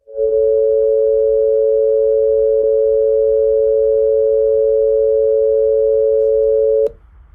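An accordion reed sample tuned to a pure interval holds one steady, smooth tone for about seven seconds, loud and alone, with no beating, then cuts off sharply.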